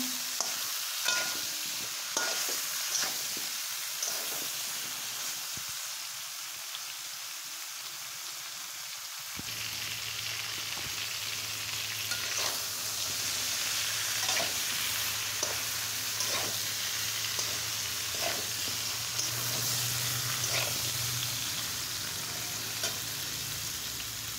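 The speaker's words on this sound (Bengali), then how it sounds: "যতক্ষণ না ভাজা হবে এটা আমরা সুন্দর করে ভাজতেই থাকবো।" Eggplant fries in a pan with a steady, close sizzle while a utensil repeatedly scrapes and stirs it, and the frying grows denser and more continuous partway through; no voices.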